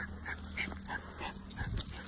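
A hunting dog eager to go after deer whimpers in faint, short, high whines, repeated a few times against a quiet outdoor background with a steady hum.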